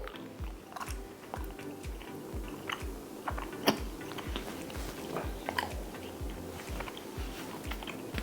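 Hard gum is chewed in a steady rhythmic pattern of close, soft squelching bites, repeating roughly every third of a second with occasional sharper clicks.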